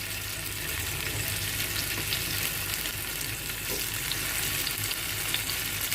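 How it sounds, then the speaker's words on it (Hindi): Paneer pieces lightly sautéing in a pan, a steady, even sizzle and hiss that fills the whole stretch with no talk. "ये पनीर पीसेस सारे जाएंगे इसके अंदर और इनको हम हल्का हल्का सा सौते करेंगे"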